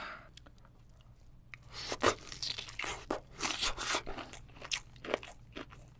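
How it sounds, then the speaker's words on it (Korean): A raw tiger prawn has its head torn off and is then eaten, giving close, crisp crunching, tearing and chewing sounds in an irregular run over quiet background. "타이거 새우 머리를 떼서 쫙"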